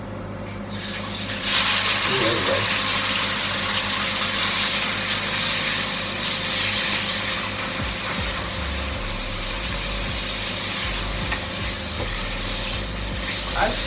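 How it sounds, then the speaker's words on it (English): Chicken pieces fry in a hot pan until crispy, making a continuous broadband sizzle and hiss close up. The sizzle swells slightly in the first seconds, then settles into an even, crackling roar with low clatter underneath. "let's chuck these in to fry it until crispy and thoroughly cooked"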